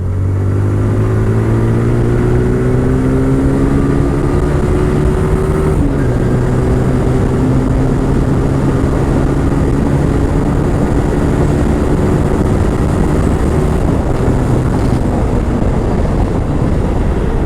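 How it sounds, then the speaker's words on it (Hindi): A TVS Apache RTR 180 BS6 motorcycle exhaust revving hard and holding high rpm, a steady throaty roar with rising and falling engine tones throughout. "एग्जॉस्ट नोट हायर आरपीएम पे इतना मज़ेदार है ना"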